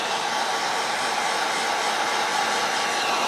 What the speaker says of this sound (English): That's why I want to get that heat gun on there.